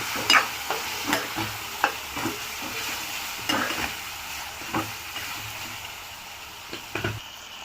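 Chili powder and turmeric stirred into a fish curry in a pan, a spoon scraping and tapping the pan in irregular strokes over a soft, steady sizzle, close and fairly quiet, with no talk.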